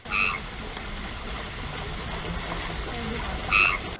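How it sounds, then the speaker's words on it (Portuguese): Frogs croak at night in a botanical garden park, with two short, distinct calls near the start and the end over a steady low hum of outdoor ambience. "ouvir o concerto feito por moradores do parque, como os sapos."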